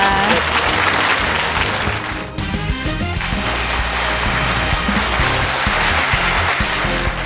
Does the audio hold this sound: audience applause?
yes